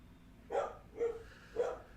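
Three spaced barks from a pet dog indoors, evenly paced at moderate loudness, with no talk over them.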